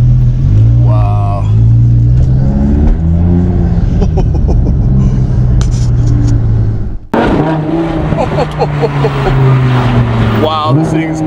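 Stock exhaust of a Mercedes 300 SL Gullwing, loud and close, revving and accelerating with a sharp cut partway through, while people talk over it.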